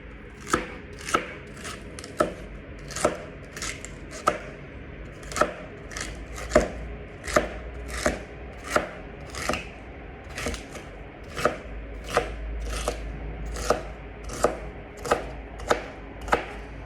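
A knife chops lemon slices into small pieces steadily on a cutting board, around twenty sharp, evenly spaced cuts in a quick, regular rhythm.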